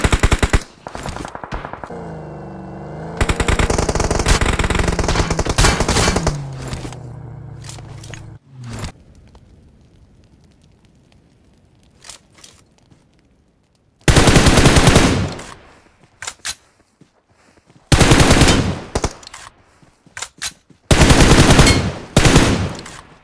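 Automatic rifle fire in PUBG Mobile comes in several long, loud, sustained bursts separated by quieter gaps with faint footsteps and movement noise.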